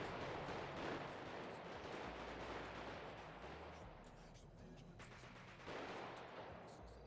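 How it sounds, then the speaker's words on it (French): Dense, loud battlefield gunfire in a video game, overlapping shots and rapid bursts forming a continuous roar with heavy low booms, a busy war scene without clear talk. "t'as vu le son des balles là, là c'est incroyable"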